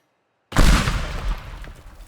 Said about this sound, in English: Pipe bombs.